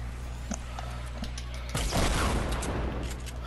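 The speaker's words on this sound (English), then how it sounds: "Who's shooting an RPG?" A loud, explosive burst from an RPG in a video game crashes in suddenly midway and leaves a dense, rumbling tail over steady low in-game background noise, with faint talk in the mix.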